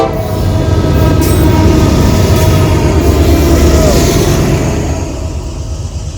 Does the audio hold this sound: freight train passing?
yes